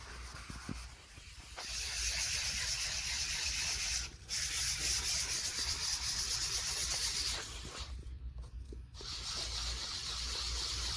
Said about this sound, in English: Better off to sand your 1/2 millimeter rather than trying to tool it off with your lathe